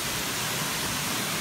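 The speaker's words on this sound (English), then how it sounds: "So this is the Palamunso waterfall" Steady broadband roar of the Pala Munsoh waterfall in Ulu Sarikei, Sarawak, a dense continuous rush of falling water heard up close with no voices.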